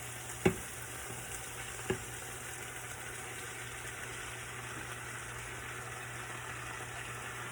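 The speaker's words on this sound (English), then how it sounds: "Now we fit throw our steak meat in there." Steak meat for a beef and broccoli stir fry sizzling in a pan, a faint steady frying hiss after two small knocks as the meat goes in.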